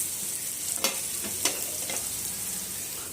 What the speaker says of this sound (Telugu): గుడ్డు ఎల్లుల్లిపాయ కారం వండుతున్నానండి